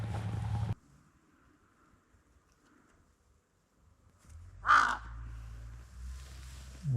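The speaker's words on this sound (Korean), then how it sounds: "뭐야, 까마귀? 까마귀다." A crow caws once, loud and close, over a quiet snowy village in Biei, Japan, with low rumbling and a burst of noise before it and ambient rumble trailing after.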